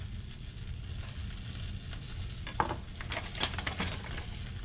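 Green onion whites and garlic cloves sauté in a pan of heating oil, making a soft, steady sizzle with a few faint scrapes and clicks. The sound stays quiet and close.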